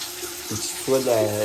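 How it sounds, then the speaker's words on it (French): Water runs steadily from a basic, rudimentary shower, a continuous close hiss with a faint hum of pipes beneath it and a brief shift in the flow partway through. "C'est un peu une douche de prison"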